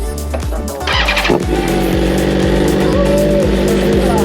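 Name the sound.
BMW M1000RR motorcycle engine starting with key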